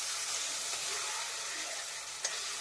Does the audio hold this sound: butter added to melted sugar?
yes